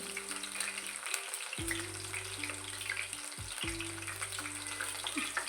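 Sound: frying capsicum slices in oil

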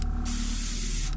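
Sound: spray paint sprayed around miniature's cobblestone base

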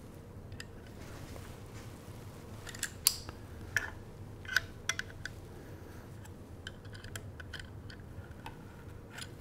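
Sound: tightening rifle chassis action screws to torque spec

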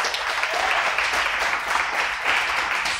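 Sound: congregation applauding in church

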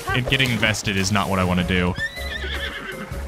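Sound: horse neighing in Zelda Tears of the Kingdom video game

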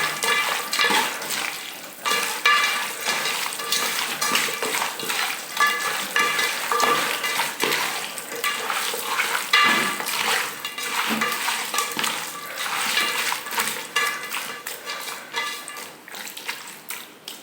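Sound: raw chicken pieces mixed by hand

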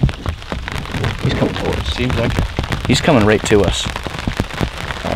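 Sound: rain falling during an alligator hunt

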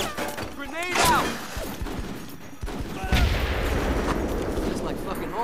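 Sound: grenade explosion and gunfire in a video game

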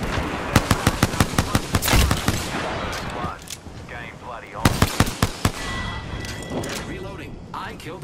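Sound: gunfire in the video game Apex Legends

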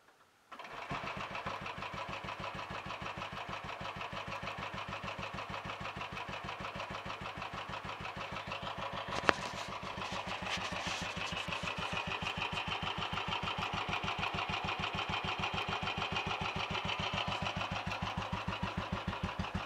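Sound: motorcycle engine starting and idling

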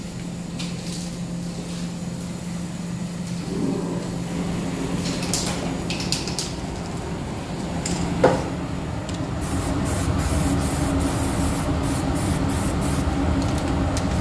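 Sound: spray painting with heat-resistant enamel

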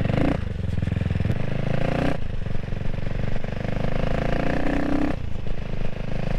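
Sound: CCM Spitfire Six motorcycle engine running

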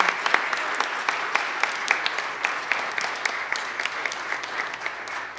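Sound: congregation applause

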